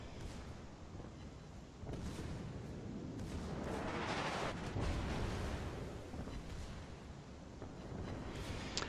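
The Bismarck's secondary batteries fire in World of Warships, a dense run of overlapping booms and blasts that rolls on steadily at moderate loudness with no clear gaps.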